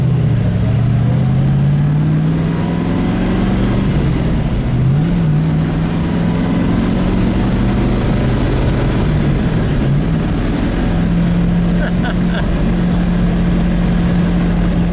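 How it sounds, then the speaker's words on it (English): A 1970 Ford Mustang Boss 429 with a big V8 and four-speed manual drones loudly from inside while driving, its deep engine note rising and dipping as it pulls through gears, continuous and close. "It sounds like you've just got this massive motor, and especially with the 4-speed, just pulling on it"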